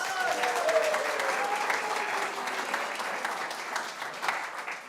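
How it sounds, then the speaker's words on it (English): Congregation applauding at a Unitarian Universalist Sunday service, steady sustained clapping from a group in a room, moderately loud and continuous throughout with no talking. "Applause, everyone, applause."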